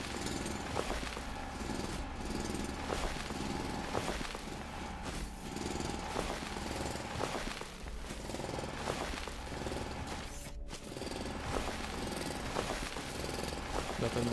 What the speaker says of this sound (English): Jumping and drilling and jumping and drilling.